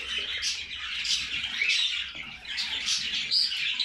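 Pet birds feeding their chicks in a nest box chirp and tweet continuously, a dense, close chatter of high calls with no talking.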